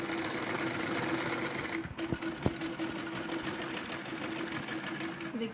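Sewing machine stitching piping onto the back piece of a jacket, a steady close whirring run with a couple of brief knocks midway and no talk.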